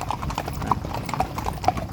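Horse hooves clip-clop at a steady walking rhythm while the horse is ridden around a farm estate in the morning, close and moderately loud with faint background noise.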